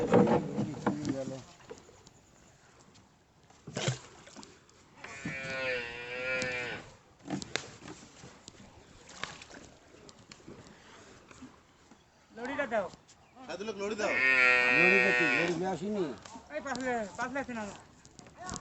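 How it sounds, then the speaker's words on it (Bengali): Water buffaloes crossing a river and climbing onto the bank give several long, loud, deep moos at intervals. People talk between the calls. "মহিষগুলো চলে আসতেছে এদিকে"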